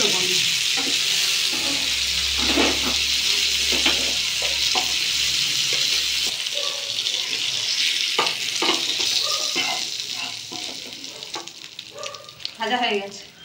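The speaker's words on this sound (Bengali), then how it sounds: "চিংড়ি মাছটা ভাজা আমি তুলে নেবো" Prawns frying in oil in a pan, a steady bright sizzle and crackle running throughout, with intermittent stirring scrapes and clatters, fairly close and loud in a home kitchen.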